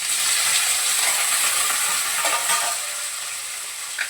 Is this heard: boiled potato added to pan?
yes